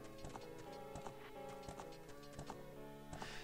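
Horse hooves clip-clopping in The Legend of Zelda: Ocarina of Time, a steady, even rhythm of clear hoof beats over a soft tonal game background.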